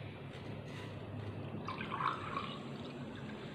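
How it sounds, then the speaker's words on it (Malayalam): Milk pours into water in a pot for tea, a soft liquid trickle and splash that swells near the middle and stays fairly quiet and close. "നമ്മൾ ഒന്നര ഗ്ലാസ് പാലാണ് ഈ രണ്ട് ഗ്ലാസ് വെള്ളത്തിലേക്ക് ചേർത്ത് കൊടുക്കുന്നത്"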